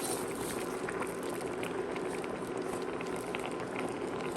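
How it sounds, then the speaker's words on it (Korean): Gamjatang stew with perilla leaves and crown daisy bubbles at a steady rolling boil, with a constant close gurgling burble and no voices. "깻잎, 넣고 끓여주면"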